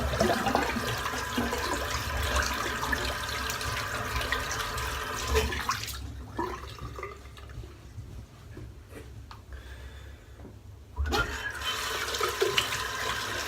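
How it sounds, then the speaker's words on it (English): Water draining out of a household sink, a steady close gurgling rush that briefly drops away mid-way with faint drips, then resumes; no talking. "Right, empty the sink out."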